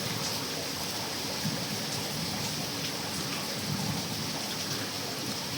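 A dense, even wash of heavy rain falls outside a window, with faint thunder rumbling beneath the continuous hiss as a dark storm cloud approaches, and no voices.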